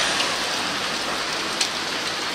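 Steady, even rain falls among trees in a woodland as a thunderstorm approaches, a close, dense hiss with occasional louder drops and no talking.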